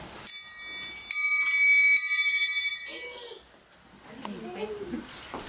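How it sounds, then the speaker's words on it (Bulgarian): Three church bell strikes ring out in succession at a Bulgarian Third of March holiday celebration, each with a long metallic resonance, followed by muffled voices and faint background noise. "скоро удрят камбаните"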